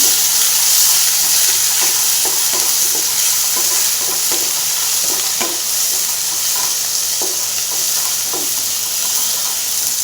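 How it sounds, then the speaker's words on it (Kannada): Chopped medium-sized tomato frying in a pan for paneer keema, giving a steady loud sizzle with a bright hiss and repeated scraping stirs throughout, and no voices. "ಒಂದು ಮೀಡಿಯಮ್ ಸೈಜಿನ ಒಂದು ಟೊಮೊಟೊ ಕಟ್ ಮಾಡಿ ಇಟ್ಕೊಂಡಿದ್ದೆ ಅದನ್ನು ಸೇರಿಸ್ಕೊಳ್ಳೋಣ ಅದನ್ನು ಫ್ರೈ ಮಾಡ್ಕೊಳ್ಳೋಣ"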